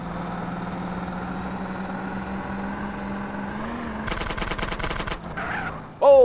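Gunshots in GTA San Andreas, a rapid burst of shots over an engine drone with a car chase, followed by a shorter burst and a final loud crack.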